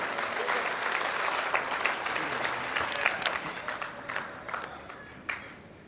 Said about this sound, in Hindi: एक बार जोरदार तालियों से उनका इस्तकबाल किया जाए।